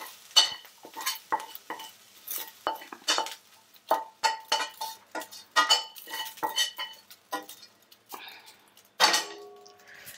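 A spoon scrapes and clinks against a pan while tamarind rice (pulihora) is mixed, giving irregular close scraping strokes and metallic taps for about ten seconds with no talk over it.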